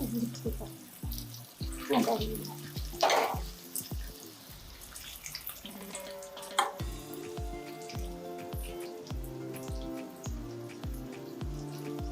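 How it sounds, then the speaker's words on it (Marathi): Sabudana vada cook in hot oil over a low gas flame, a quiet bubbling sizzle with rhythmic low taps and clinks running throughout, close and fairly faint. "वडा तळताना"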